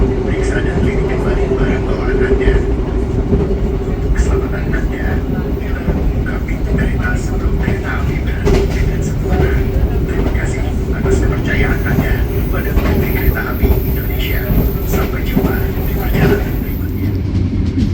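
Interior of the Argo Merbabu passenger train arriving at Karawang station: a continuous loud rolling rumble with a steady hum and scattered wheel clicks and rattles, with an announcement voice over it.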